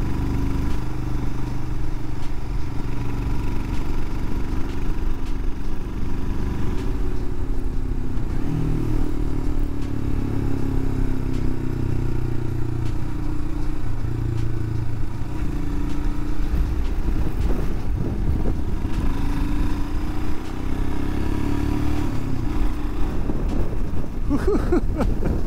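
A Royal Enfield Himalayan motorcycle rides along the Blue Ridge Parkway in fall, its engine a steady low drone under constant wind rush and occasional clatter, with no talk.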